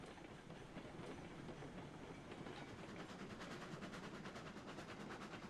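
Coal-powered steam locomotive hauling a train in Railroads Online, heard as a faint but steady rolling rumble with rhythmic clickety-clack of wheels over rail joints, picking up a regular beat as it gathers speed.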